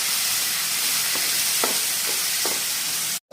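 Onion paste sautéing in hot oil, a steady loud sizzle and hiss with a few soft spoon scrapes scattered through it, cutting out abruptly near the end.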